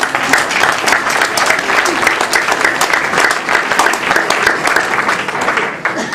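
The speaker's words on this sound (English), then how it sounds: "Let me get a round of applause" Sustained audience applause fills a tribute event for Eugene "Bo" Baynes, a dense wash of many hands clapping, loud and steady throughout with no talk over it.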